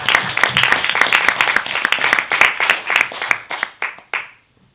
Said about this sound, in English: So a round of applause for them lurking back.